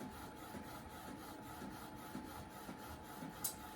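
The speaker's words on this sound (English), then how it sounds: "you can hear it, it's printing" A quiet Sawgrass 500 sublimation printer runs steadily with a soft rhythmic whir and faint mechanical clicks repeating about twice a second, heard alone.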